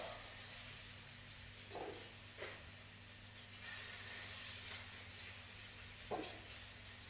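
Six meatballs frying in a pan, a faint steady hiss and sizzle with a few soft clicks and knocks as they settle and get moved around.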